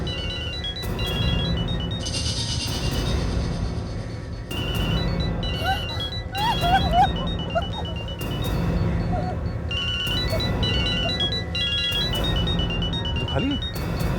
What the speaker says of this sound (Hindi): इसी बैग में से मोबाइल की आवाज आ रही है